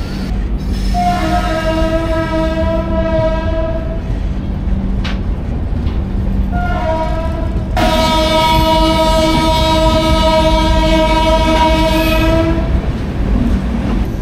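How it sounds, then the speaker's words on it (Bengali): The Dhauli Superfast Express horn sounds in two long, loud blasts with a short pause between them, over the steady rumble of the train departing Puri station. "আমাদের ট্রেন ছেড়ে দিয়েছে পুরী স্টেশন"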